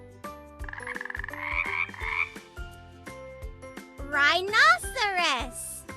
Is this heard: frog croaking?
yes